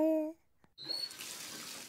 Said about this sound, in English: the water comes out of the tap and runs into the bath